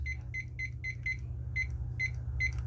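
Electronic kitchen-style timer beeping in quick repeated double-tone bursts, about eight beeps in under three seconds, loud and clear over a steady low hum with no talking.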